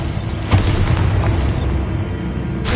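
Bombarda spell explosion in Hogwarts Legacy, a loud deep boom with a sharp onset that rumbles and fades over about two seconds, with no talking.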